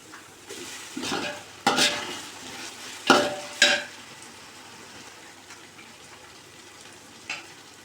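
Ginger-garlic paste sizzles in a pan for mutton biryani while a spoon stirs and scrapes, giving several loud clanking strokes over a steady frying hiss that fades toward the end.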